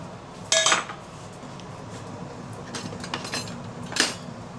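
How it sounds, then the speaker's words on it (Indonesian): Rock sugar is stirred into oil in a pan for a Hong Kong–style Chinese oxtail dish: a few sharp metallic scrapes and clinks of a utensil against the pan over a steady low background. "Aduk-aduk sampai dia larut guys"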